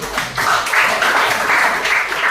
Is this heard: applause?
yes